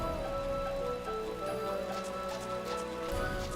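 Rain falling in the video game Final Fantasy XII, a steady wash of downpour under layered game music, with faint hoof-like clopping mixed in.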